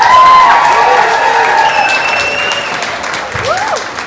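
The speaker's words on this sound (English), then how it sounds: "give all of our sponsors, our partners, and our volunteers a big, real rank, deadly round of applause" Audience at a high-end fashion show bursts into sustained applause, dense loud clapping with a few whoops and whistles rising over the crowd.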